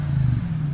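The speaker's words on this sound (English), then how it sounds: "a naturally aspirated V8 that is not a flat plane, it's a cross plane crank" A naturally aspirated cross-plane-crank V8 in the Batmobile, a steady, loud, low engine drone held without clear rises or dips, alone with no voices.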